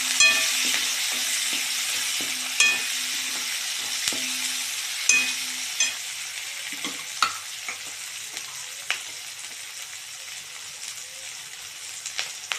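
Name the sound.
capsicum frying in oil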